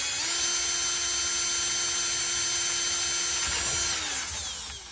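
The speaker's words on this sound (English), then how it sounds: "Start by drilling straight down." A power drill whirs steadily at close range for several seconds, drilling straight down into a foam pool noodle, then winds down as the motor stops.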